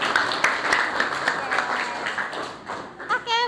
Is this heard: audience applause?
yes